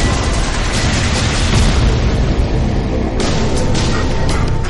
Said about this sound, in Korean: 폭발하는 것 같아